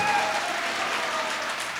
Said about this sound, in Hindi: तालियां बजा दें अगर आपकी गजल है।